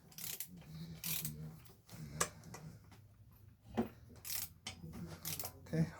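A ratchet loosens crankshaft bolts on a sleeved Honda H22 engine during a rebuild, producing a series of sharp clicks and metallic ratcheting bursts at an uneven pace, close up, with brief pauses between turns.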